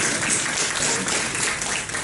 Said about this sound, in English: Should we give them a quick round of applause?